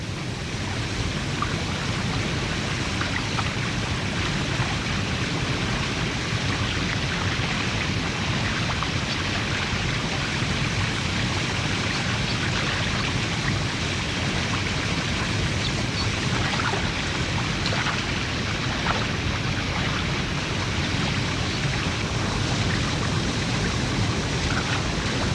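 A rushing mountain torrent on Kilimanjaro, Tanzania, roars as a steady, dense wash of water noise, unbroken and fairly close throughout.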